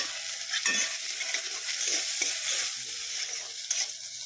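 Garlic, ginger and onion frying in a pan for homemade chicken stew: a bright, continuous sizzle with spatula stirs and scrapes close by, no talking.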